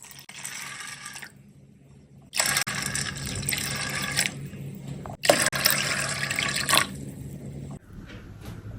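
Water pours over washed chana dal in a bowl to soak it, in two gushing bursts with a short pause between and a trickle at the end, close and fairly loud.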